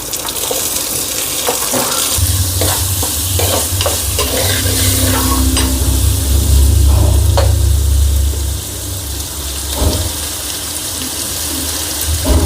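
Tomato, onion and shallots are sautéed in a pan with salt and garlic, a steady sizzle broken by stirring scrapes, with a low rumbling hum underneath through the middle.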